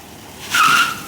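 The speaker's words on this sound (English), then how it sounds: "That's the brakes." A car brakes hard and its tires let out one short, loud, high squeal that swells and fades within a second, with no one talking.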